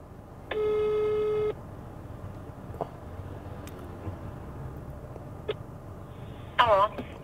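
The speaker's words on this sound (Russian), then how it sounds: "Давайте попробуем все-таки дозвониться." Telephone tones on a call: a steady beep for about a second, then faint line noise and clicks, ending with a short burst of warbling dial tones, with someone speaking quietly in between.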